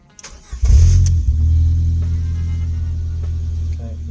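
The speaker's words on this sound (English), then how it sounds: "Let's start her up." A Ford Fiesta engine cranks briefly, then catches and settles into a loud, steady idle, close by, right after clutch replacement work.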